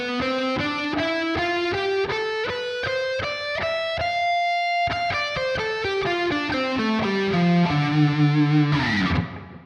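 An electric guitar with a distorted tone plays a D Dorian scale one note at a time, climbing evenly, pausing on a held note, then descending.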